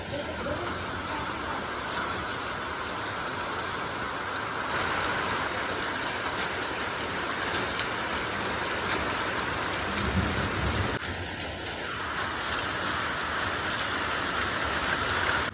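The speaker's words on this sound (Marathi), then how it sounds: "पावसाचा अंदाज म्हणता म्हणता एकदाची जोरदार त्याने सुरुवातच केली" Heavy rain pouring during a monsoon downpour in the Konkan region, a dense, steady hiss of drops on surfaces with a low rumble beneath, continuous and close throughout.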